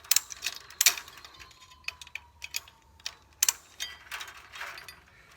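H-brace fence wire being tightened gives sharp metallic clicks and ratcheting snaps in irregular bursts, with a faint wire creak between them, close by and without talk.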